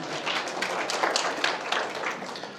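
A seminar audience claps, a dense patter of many hands at moderate distance, steady and even across the whole stretch with no voices over it.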